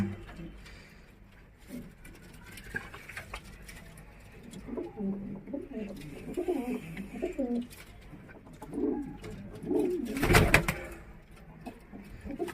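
Cheena kaldumba pigeons coo in a series of low, rolling calls in the middle stretch, moderately close, with a sharp rustle or flutter near the end over a quiet background.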